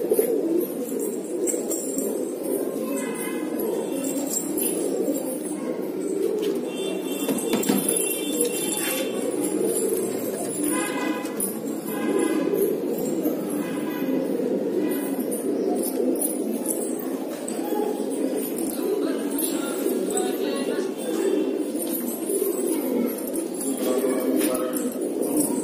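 Old-breed pure Deobandi pigeons in Muzaffarnagar coo steadily throughout, a low continuous burbling layered with occasional higher chirps, close and moderately loud.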